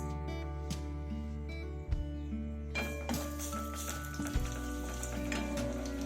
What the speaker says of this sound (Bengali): তেলটা গরম হয়ে গিয়েছে, এইবার এর মধ্যে দেব অল্প একটু ছোলার ডাল।